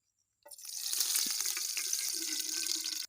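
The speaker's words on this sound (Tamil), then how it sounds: "கடலை எண்ணெய் ஊத்திக்கலாம்" Groundnut oil pours into a cooking pot in one steady, close stream that starts after a brief silence and runs unbroken to the end, with no speech.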